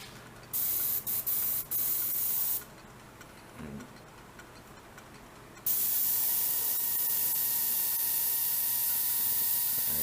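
A spray gun lays finish onto a walnut bowl in bursts: short hissing blasts early on, a quieter pause, then a long continuous loud spray hiss close by, with no talking.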